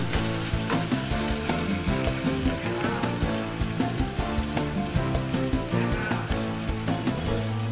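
Onions fry in a pan for a Bengali fish-head dish, giving a steady close crackle and sizzle with quick rhythmic clicking throughout. No one speaks.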